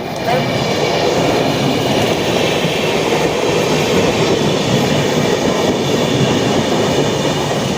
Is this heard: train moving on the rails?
yes